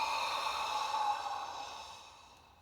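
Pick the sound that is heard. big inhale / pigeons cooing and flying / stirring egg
big inhale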